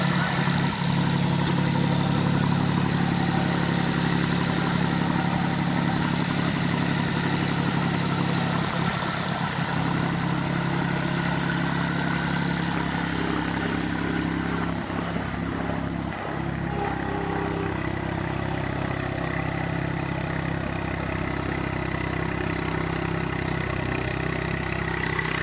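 International Harvester tractor engine running steadily under throttle, a continuous low rumbling drone with constant loudness that holds for the whole stretch with no talk over it.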